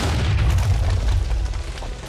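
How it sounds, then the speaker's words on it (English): A big explosion in the Tensura: Reincarnated video game sounds as a sustained, heavy low rumble that fills the whole moment without a break. "that was a big explosion"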